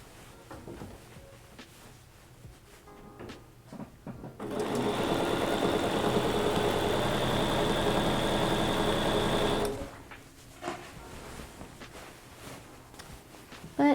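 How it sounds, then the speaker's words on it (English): A sewing machine runs steadily for about five seconds, a loud continuous mechanical whir in the middle of the stretch, with quieter handling noises before and after. "All I hear is the sewing machine going"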